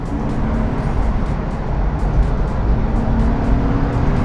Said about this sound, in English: And you can just let that engine sing.